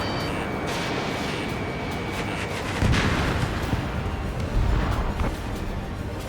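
Heavy gunfire and explosions from enemy tanks in the combat flight game Ace Combat 7, a dense continuous roar of battle noise with louder bursts about halfway through and no talking.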